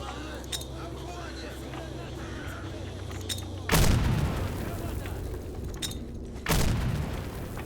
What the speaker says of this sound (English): They're attempting to throw grenades at me